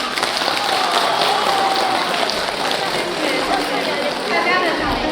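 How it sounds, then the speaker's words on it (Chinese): A theatre audience in Shaoxing applauds after an opera performance, a dense, continuous clapping wash that holds at a fairly even level. "大家的掌声真的是给我们莫大的鼓励"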